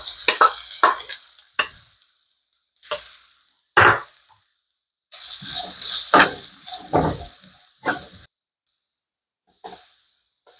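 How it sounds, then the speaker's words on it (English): Garlic and onion fry in hot oil, crackling and sizzling in loud bursts between brief silent gaps, with stirring and scraping noises through the middle and no talking. "The oil's hot, so now I can put the garlic and the onion."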